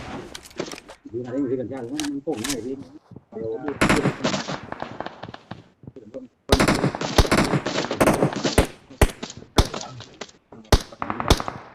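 Gunfire in a shooter video game as the player fires on bots: rapid automatic bursts and single shots, loud and close, with gaps between them. Excited talk from the player runs over and between the shots.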